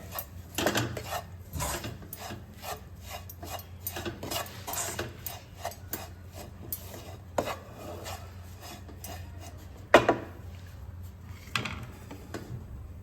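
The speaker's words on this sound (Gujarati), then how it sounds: "હવે સરસ તેને આપણે એક રીતે મિક્સ કરી દઈશું" Gujarati lapsi being mixed with ghee in a pan, a spoon scraping and clinking repeatedly against the metal in quick irregular strokes, close and clear with no talking.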